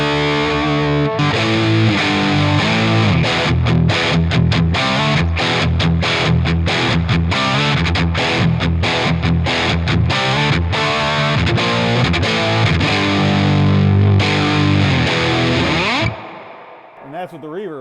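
An electric guitar plays heavily distorted rock chords through a Bad Cat Cub 40R USA Player Series tube amp with its EF86 channel pushed and reverb on. The riffing is loud and continuous, then stops abruptly with a short reverb tail.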